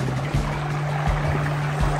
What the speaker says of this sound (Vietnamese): đây suối chảy